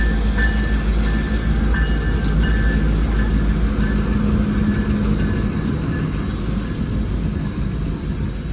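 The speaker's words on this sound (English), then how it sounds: "two Union Pacific locals raced each other right through Salt Lake Central." Two Union Pacific local freight trains run through Salt Lake Central station, giving a continuous heavy rumble of locomotives and wagons that stays loud and close from start to finish.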